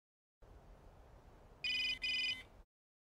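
Electronic phone ringtone in an anime scene, two short bright trilling bursts sounding back to back over a soft background hiss, then cutting off.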